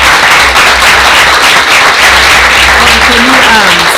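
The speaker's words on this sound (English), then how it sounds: "So let's give a round of applause to" A large crowd applauds loudly and continuously, a dense wash of clapping that fills the room, with a voice briefly heard over it.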